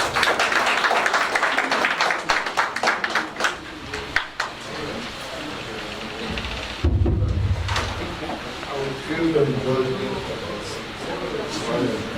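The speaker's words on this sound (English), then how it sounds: "Let's give him a round of applause." An audience applauds at a formal ceremony where a certificate of registration is presented, with dense clapping in the first few seconds that fades as a voice speaks over and after it.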